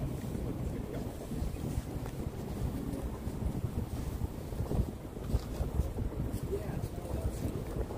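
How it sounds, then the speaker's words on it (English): Wind gusts buffet a microphone outdoors at a night vigil in Washington DC, a loud continuous roaring rumble that swells and eases throughout. "It's windy."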